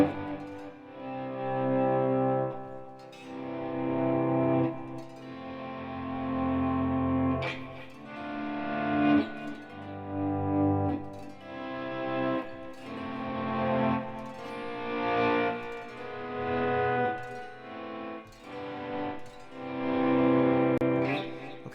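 Electric guitar played through delay and reverb effects, notes and chords swelling and trailing off into echoing repeats, with a steady, moderately loud wash of sustained tone throughout and no talking.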